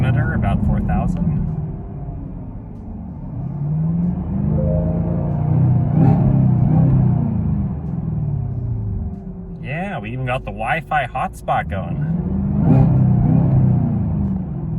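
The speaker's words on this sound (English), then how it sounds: "All that noise coming from what's under the hood." A Chevrolet Camaro ZL1 1LE's V8 engine rumbles steadily at idle and rises into revs near the soft limiter around 4,000 rpm, close and loud beneath ongoing conversation.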